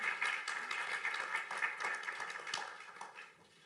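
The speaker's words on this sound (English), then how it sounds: "Round of applause, please." Audience at an investment conference panel clapping, a steady, fairly faint patter of applause that tapers off at the end.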